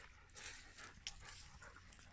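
A female dog runs loose outdoors, panting and snuffling faintly at a distance amid broad background noise, with no one talking.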